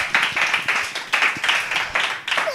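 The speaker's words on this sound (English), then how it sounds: "Isn't that a round of applause?" Audience applause at a breathwork talk event, a series of rhythmic bursts of clapping pulsing roughly twice per second, moderately loud and fairly close, with no talking over it.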